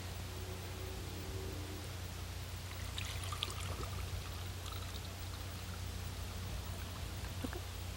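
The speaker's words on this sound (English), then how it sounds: "I'm filling it up so that the water is coming out the funnel" Water poured into a funnel fixed to a garden hose, a steady soft rushing stream that keeps running for several seconds, with faint sputters near the end.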